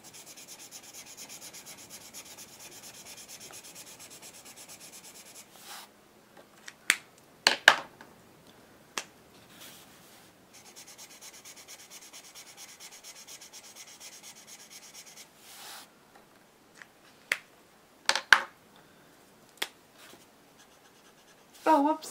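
Ohuhu and Copic alcohol markers drawn across paper: long soft scratchy strokes in bursts, broken by sharp ticks and taps of the pens, close and fairly quiet, with no talking.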